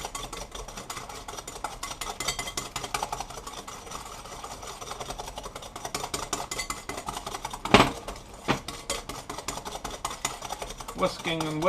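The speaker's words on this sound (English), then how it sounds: "I'm going to use a whisk. To whisk up these." A whisk beating ingredients in a bowl for a bee sting cake (Bienenstich), making rapid, steady metallic clinking and scraping that runs throughout, with a couple of louder knocks near the end.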